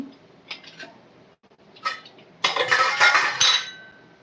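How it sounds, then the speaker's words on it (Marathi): Peas being tipped into a pressure cooker for a spicy pea curry, with a few light clinks followed by a louder burst of rattling and clattering of peas against metal, close by and without talk. "कुकर मध्ये आपण वाटा शिजत टाकू"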